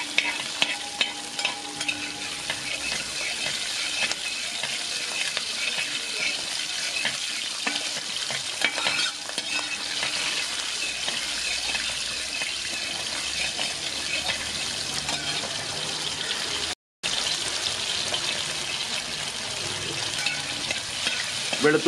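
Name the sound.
onion and garlic sizzling while sautéed for sambar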